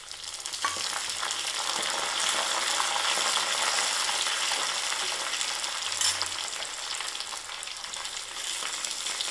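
Mustard seeds and fenugreek fry in hot oil with shallots for a Kerala-style fish pickle, making a steady, close, loud sizzle with bright crackling and brief stirring knocks, and no voices.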